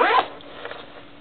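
Zipper on a military-style first aid pouch made of a synthetic fabric, a quick close rasping pull near the mic that fades into a few faint rustles and small clicks.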